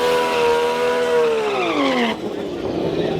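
Nissan Skyline R34 drag car from Croydon Racing Development doing a burnout: a loud, close engine roar with strong tonal harmonics that falls in pitch, then gives way to rougher tire noise and rumble near the end.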